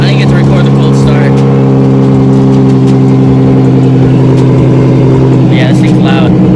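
A Nissan 370Z engine runs loud and steady with a deep, sustained rumble and some rising revs, close by, with a voice talking over it.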